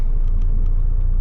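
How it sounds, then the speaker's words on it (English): A semi truck pulling a trailer slowly onto a weigh scale gives off a loud, close, steady engine rumble with a heavy low-end drone and faint rattles on top, unbroken for the whole moment. "I'm trying to keep my truck from being bouncy while I'm pulling onto the actual scale."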